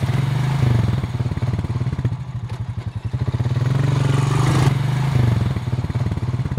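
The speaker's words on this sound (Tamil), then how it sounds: "வாவ் பண்டி, சூப்பரா இருக்குடா பைக்." Motorcycle engine, a loud close rumbling idle with throbbing pulses that dips briefly and swells again, running continuously with no speech.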